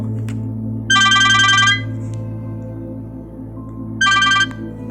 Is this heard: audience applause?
no